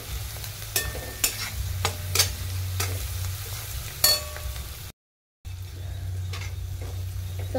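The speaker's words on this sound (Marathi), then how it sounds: "तर मस्तपैकी असं अद्रक लसूण आणि कोथिंबीरची पेस्ट सुद्धा परतली." Ginger, garlic and coriander paste sautés in a pan, a steady sizzle broken by repeated scraping strokes of a spoon, with a brief dropout partway through; no talking.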